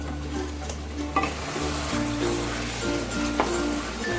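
Spice mix loosened with a little water sizzles loudly in a pan, a continuous crackling hiss with stirring scrapes and brief clatters of the utensil against the pan.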